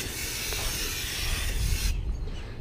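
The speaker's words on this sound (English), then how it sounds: "So we're just going to go ahead and spray the inside here." Compressed air duster spraying loose dust out of the inside of a desktop computer: a continuous close, loud hiss that cuts off sharply near the end, leaving a quieter tail.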